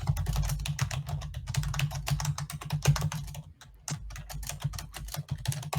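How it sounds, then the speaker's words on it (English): Rapid typing on a computer keyboard, close and clear, with quick irregular clacks running almost nonstop over a low hum and a short pause in the middle. "typing away here"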